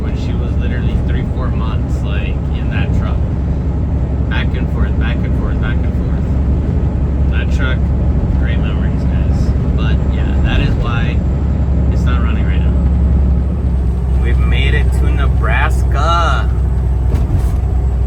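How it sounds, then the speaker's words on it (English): A custom Kenworth W900 truck drives along with a constant low engine rumble and faint turbo spooling whines above it, while someone talks over the drone throughout. "Can y'all hear the turbo?"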